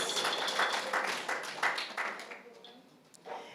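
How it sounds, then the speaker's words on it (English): An audience claps for the Jamaican folk singers, a moderate burst of applause that fades over a few seconds into quieter room sound with a last scattered clap. "A round of applause and thank you again to the Jamaican folk singers"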